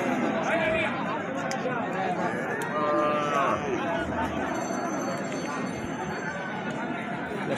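Cattle at a Bangladeshi livestock market selling Sahiwal, cross and local bulls for Qurbani, with several drawn-out moos rising over constant crowd chatter and nearby talking.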